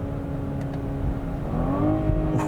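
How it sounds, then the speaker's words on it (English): A 2022 BMW M440i Convertible engine blips and rises in pitch during a paddle downshift, a short, nearby rev swelling over a steady idle-like drone. "when you pull the paddle, you can hear it rev matches"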